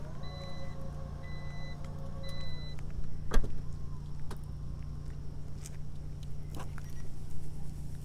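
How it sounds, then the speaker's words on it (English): Power side mirrors on a 2023 Volvo XC60 B5 Plus Dark folding in with a soft electric motor whir, then a sharp click and a few light mechanical knocks over a low steady background hum. "see how the side mirrors just folded in?"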